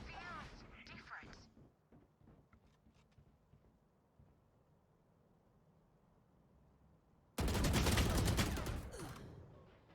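Gunfire in the video game Valorant comes as a short burst of shots early on, then a loud sustained roar of rapid fire toward the end, with a voice talking over the game audio.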